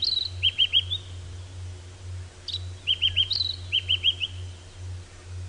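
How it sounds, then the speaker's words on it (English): A white-browed scrub robin sings on a morning safari drive, clear repeated bursts of three or four quick whistled notes separated by pauses, over a steady low engine hum. "That is the white-browed scrub robin that we can hear singing."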